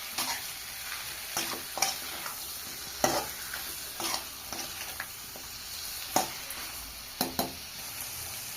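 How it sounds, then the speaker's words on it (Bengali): Chicken being stir-fried with salt in a pan, a constant close sizzle punctuated by regular scraping stirs of a spatula, each stroke a brief louder swish about once a second. "চিকেন দিয়ে সুন্দর করে কষিয়ে নেব। স্বাদ মতো লবণ দিয়ে দেবো।"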